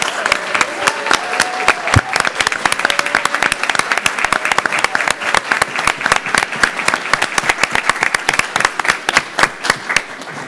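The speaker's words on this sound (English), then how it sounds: "So if we could give them a round of applause." A school board meeting audience applauds for student achievers, dense and loud clapping that holds steady for about ten seconds, with no talk over it.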